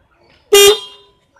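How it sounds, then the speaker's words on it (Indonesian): One short, loud car horn honk sounds alone, then fades quickly into quiet. "klakson"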